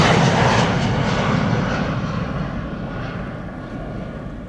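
Wide-body airliners taxiing at Amsterdam Schiphol Airport, a steady loud jet engine roar that slowly fades as the aircraft moves away.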